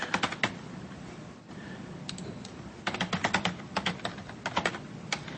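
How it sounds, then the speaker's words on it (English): Computer keyboard typing while entering a team name and password for a Littlefield simulation signup, with quick bursts of close keystrokes separated by short pauses, no talking. "I can't type today, and I'm not even sure I typed the original one right."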